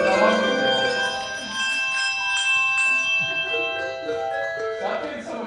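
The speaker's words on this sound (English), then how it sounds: "with our mallets, we may also hit the bell on the table, or we can pick it up and hit the bell on the table" A handbell choir plays at a spring concert, bells rung together and struck with mallets and on a table, giving layered sustained ringing tones that overlap and decay, loud and close.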